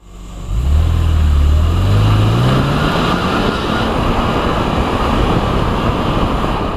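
A 2004 BMW M3 E46 convertible with SMG gearbox pulls away, its engine note rising smoothly as it accelerates, loud and steady beneath a broad rush of road and wind noise.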